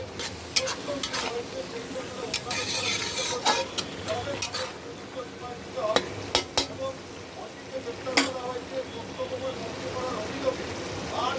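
About 400 grams of tomatoes frying in spiced oil in a pan, steady sizzle under repeated metal spoon scrapes and clinks against the pan, with some talking over it.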